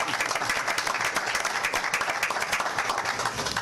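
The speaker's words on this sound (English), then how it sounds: "could I ask for a round of applause for Dr. Eberlin?" Audience applause at a committee meeting honoring an award winner, a steady dense patter of many hands clapping throughout, fairly distant and even in level, with no talk over it.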